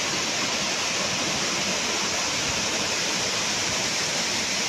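Savatkada waterfall pours from a great height, a dense, steady roar of falling water that fills the air evenly and continuously with no voices heard.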